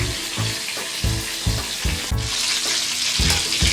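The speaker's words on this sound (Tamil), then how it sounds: "கத்திரிக்காய் ரெடி ஆயிடுச்சு நல்லா வதங்கிடுச்சு" Eggplant frying in hot oil in a pan, with a continuous loud sizzle broken by regular thumping stirs and scrapes of a utensil, close and without voices.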